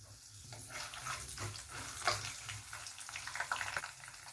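Chopped green chillies sizzle in hot oil with a faint, steady crackle and scattered sharper pops, heard quietly on their own.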